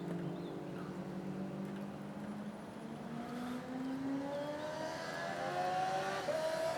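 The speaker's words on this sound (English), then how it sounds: "calm down motorbike" A motorbike revs as it passes by outdoors, its engine note climbing in pitch across several seconds, moderately distant and growing slightly louder toward the end.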